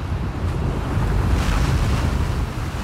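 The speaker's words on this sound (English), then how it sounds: "Just all the waves." Ocean waves and gusting wind from the video game The Last of Us Part 2, a loud, dense, continuous roar of surf and wind noise with no pauses.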